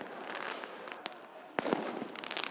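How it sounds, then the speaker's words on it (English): Fireworks thrown by protesters outside the Greek Parliament at night crack in sharp isolated bangs, with a louder burst of pops and crackles toward the end over a steady crowd-like background. "protesters threw petrol bombs and fireworks at the seat of power"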